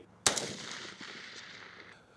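A single sharp gunshot from recruits' shooting training cracks loudly, followed by a long echoing tail that fades over about two seconds.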